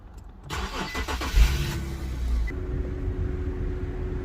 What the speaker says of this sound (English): let me start the car one more time